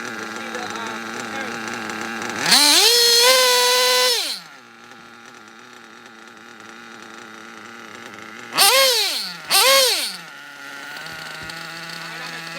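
A nitro RC engine is blipped during a box tune, first one long high-pitched rev held about two seconds, then two quick rising blips, each dropping back to a buzzing idle.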